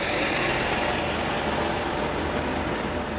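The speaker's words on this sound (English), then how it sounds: "big rig trucks going by" Big rig trucks rolling through downtown Los Angeles make a steady, loud low rumble of engines and tires, a continuous heavy traffic roar with no voices.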